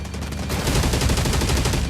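Rapid gunfire in the mobile shooter Delta Force Mobile during warfare-mode combat, a dense continuous burst of automatic shots that starts partway in and stays loud to the end.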